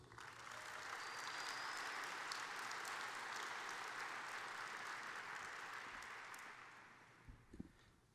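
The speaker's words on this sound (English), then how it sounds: "I want you to give a nice round of applause" A large audience at an athletics hall of fame ceremony gives a full round of applause, a broad, even wash of clapping that swells quickly, holds steady and then tapers off toward the end.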